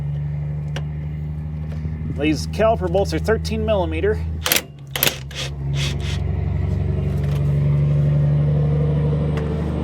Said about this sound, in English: Big farm truck action.